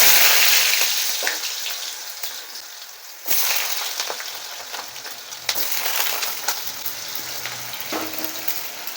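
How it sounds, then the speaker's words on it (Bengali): Cut potatoes go into well-heated oil, setting off a loud, dense crackling sizzle that settles into steady bubbling frying, with a few sharp clatters partway through and no voices. "এবারে আমি আলুগুলোকে তেলের মধ্যে ছেড়ে দেব।"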